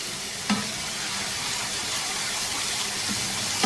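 Garlic-ginger paste and green chili paste stirred in a hot pan, a steady sizzle with scraping taps of a spoon near the start and end, close and alone.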